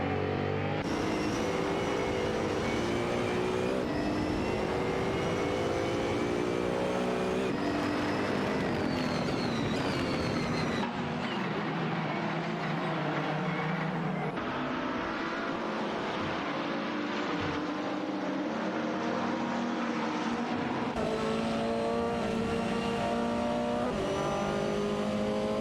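BMW M6 GT3 race cars in a racing video game, engines roaring steadily and loud throughout with shifting pitch as cars run side by side, gear changes breaking the drone, no talk.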